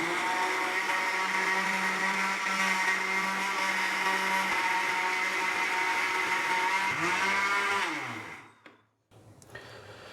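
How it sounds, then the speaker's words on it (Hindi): A mixer grinder steadily blends raw mango and onion into a coarse chutney paste, a loud continuous whir that runs for several seconds, then slows, winds down and stops with a brief clatter. "हमने इसको ज़्यादा नहीं ग्राइंड करना, हमने सिर्फ इसका दरदरा सा पेस्ट तैयार करना है"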